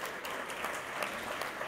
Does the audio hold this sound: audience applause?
yes